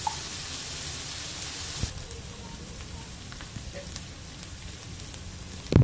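Ginger and onion hair oil cooking in a pan on low-medium heat, giving a steady soft sizzle and crackle with occasional small pops, close and even throughout.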